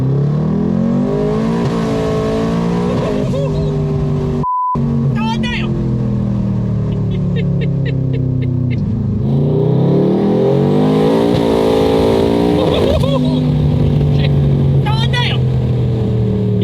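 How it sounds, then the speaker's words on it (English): A tuned 2024 Ford F-150 4WD turbo truck with a 10R80 transmission accelerates hard on a pass, its engine loudly revving up through rising gear pulls with shifts, a blow-off chatter between, recorded from inside the cab. "first hit in the 2024 F-150"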